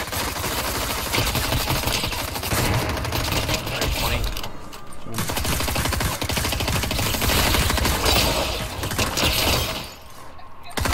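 Rapid video game gunfire crackles through a loot-heavy shooter match, dense bursts running almost continuously with brief gaps, while players talk over the shots.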